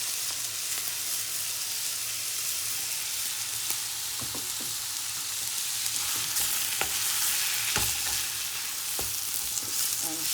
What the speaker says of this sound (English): and stir fry.